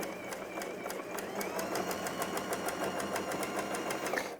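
A sewing machine stitches a scarf seam with a fast, even train of ticking needle strokes over a soft motor whir, close and moderately quiet.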